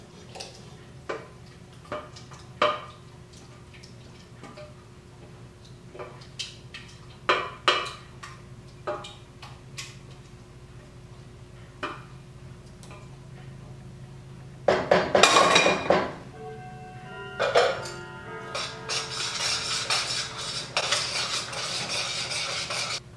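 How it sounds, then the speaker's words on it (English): Creamy sauce mixed into egg noodles in a metal pot, with scattered clinks and scrapes of a utensil against the pot and a busier stretch of clattering near the end, close and with no talk. "Mix the sauce with the egg noodles so that the egg noodles are all coated"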